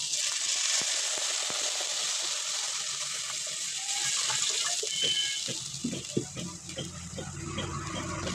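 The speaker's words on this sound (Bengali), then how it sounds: "এবার আমি ঝোল দিয়ে দিলাম।" Broth pours into a cooking pot with a steady rushing gush of liquid, then tapers into scattered splashes and bubbling.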